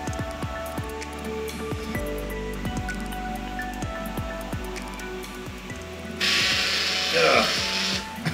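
A RatRig V-Core-3 3D printer probes its bed mesh with a steady run of sharp mechanical clicks and ratcheting ticks, close and regular, over a low motor hum, with a brief louder whir near the end.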